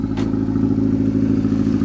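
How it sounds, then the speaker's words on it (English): A turbocharged Honda Accord with an F23 engine idles steadily and smoothly, a close, even low mechanical hum with a brief faint click near the start and no voices. "it's idling good, smooth."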